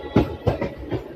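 A MEMU train running between Nellore and Vijayawada rolls through Chinnaganjam railway station with rhythmic clickety-clack wheel beats, a steady rumble under several evenly spaced clanks, fairly close and loud, with no talking.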